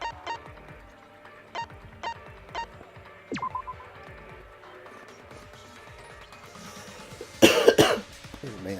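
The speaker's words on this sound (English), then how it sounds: "Oh man, still coughing." Coughing from a character in the game Danganronpa V3: Killing Harmony, heard as a short run of coughs over game sound effects and quiet background music, ending in a louder burst.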